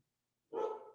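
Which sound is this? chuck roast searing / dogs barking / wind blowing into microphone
dogs barking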